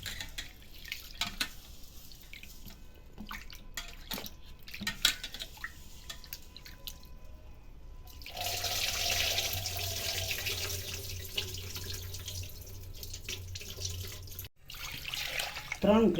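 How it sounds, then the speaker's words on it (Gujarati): Seven-lentil and rice khichdo being rinsed in water in a kitchen, with soft sloshing and trickling that gives way to steadier running water, close and fairly quiet. "ખીચડાને સરસ એવા 2-3 પાણીથી ધોઈ નાખવાનો।"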